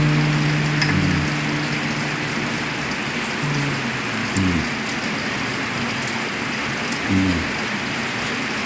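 Steady rain keeps up a soft broadband hiss throughout, with a few acoustic guitar notes being plucked and adjusted over it.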